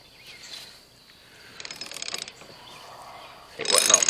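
A wrench ratcheting on a nut at the PTO switch of a Mahindra Emax tractor, two short bursts of rapid clicking separated by quiet fiddling, close to the microphone.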